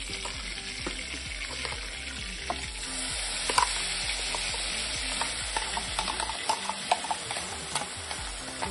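Ground spice paste of fried coriander and other ingredients for chana masala fries in a pan with a steady close sizzle, punctuated by frequent spoon scrapes and clicks as it is stirred.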